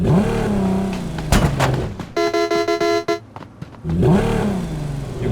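A revving car engine in the video game Ring of Elysium rises and falls, broken by a loud crash, a blaring horn and rattling clatter, then the engine roars again; game-like effects.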